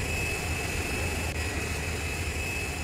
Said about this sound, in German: So, die Drohne fliegt weg, kommt eine andere.